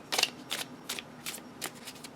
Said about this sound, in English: this is quite well shuffled